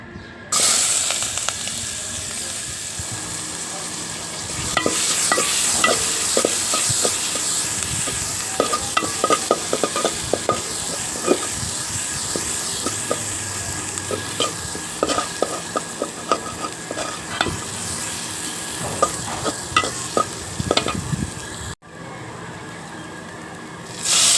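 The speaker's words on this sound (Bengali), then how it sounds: "মাছগুলি ভাজা হওয়ার পর নামিয়ে নেব" Tilapia fish fries in hot oil with a loud, continuous sizzle and crackle, broken by frequent spatula scrapes and taps as the pieces are turned and lifted out, ending in a short quieter pause.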